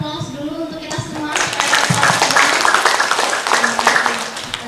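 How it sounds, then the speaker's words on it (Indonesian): Audience applause at a village anti-corruption pilot assessment Q&A session: a crowd claps steadily for several seconds, moderately close, with a speaking voice over it at the start. "Sebelumnya boleh kita aplaus dulu untuk kita semua."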